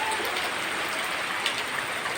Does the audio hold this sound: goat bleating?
no